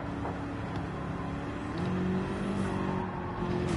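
A race car engine in Gran Turismo 7 drones and revs in a synthetic, game-like tone, fairly quiet and steady with rising pitch partway through.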